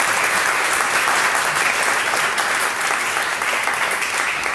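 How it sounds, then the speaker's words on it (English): An audience at a Labour Conference event on food, farming and the countryside gives the speakers a dense, steady round of applause that carries on without a break. "And if everyone can just applaud our speakers,"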